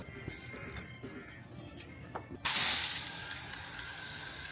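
Water from a hose suddenly bursts on partway through, a loud steady hissing spray washing down a front porch after quiet rustling.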